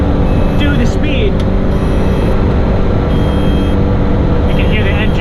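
A 1983 Daihatsu Hijet kei truck's engine drones loud and steady at near top speed on a drive, with road and wind noise, a few high alarm beeps and a voice talking over it.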